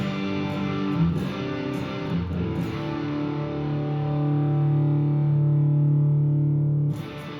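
Electric guitar played through a Super Bolt overdrive pedal gives a saturated, distorted tone: a few strummed chords, then a long sustained note ringing for several seconds before a fresh attack at the end.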